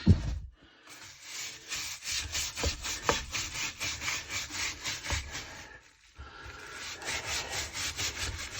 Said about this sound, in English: It's taking some scrubbing to do, to be honest with you.